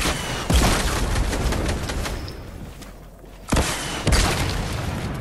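In a combat video game, rocket-propelled grenades fire as three heavy booming blasts, one early and two close together near the end, with a rumbling roar between them.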